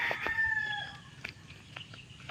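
A hungry backyard flock of chickens at feeding time opens with a rooster's crow, followed by scattered clucks and squawks. The birds sound close and loud, with no talk.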